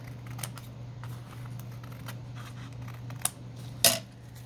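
Scissors trim open a paper pocket made from a coffee-dyed envelope: a few faint, sparse snips and paper ticks over a low hum, ending in a sharper, louder cut near the end.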